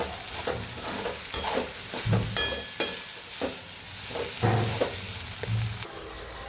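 A spoon stirs coriander-cumin powder and Kashmiri chili through frying kankoda (spiny gourd) curry in a pan, with rhythmic scraping strokes over a constant close sizzle.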